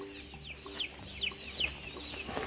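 Baby chicks kept indoors in a play enclosure give repeated high, thin peeps in short bursts, fairly close over a low background hum.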